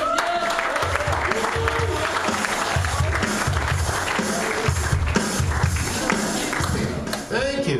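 A comedy club crowd at Rooster T. Feathers applauds and cheers as comedian Rick Jones takes the stage, with loud, steady clapping throughout and some voices in the mix.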